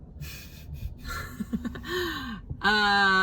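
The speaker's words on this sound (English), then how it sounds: "Here he is, always yawning" A long yawn with a gasping intake and a drawn-out, rising and falling voiced exhale, ending in a loud strained tone, heard up close.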